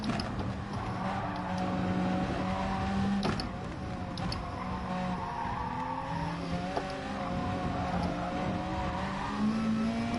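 A race car engine in GT Sport, revving and shifting through gears with a rising and falling whine, intermittent tire squeal, steady and moderately close under the gameplay mix.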